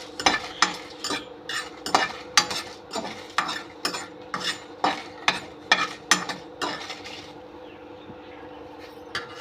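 Dry red chillies being stirred and dry-roasted in a pan for idli podi, giving about a dozen close, rhythmic scraping strokes of a spoon against the metal before they stop.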